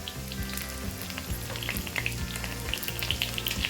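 Garlic and red chili frying in a pan for Thai red curry paste, a continuous crackling sizzle with scattered sharp pops and spatters, close and steady with a faint low hum beneath.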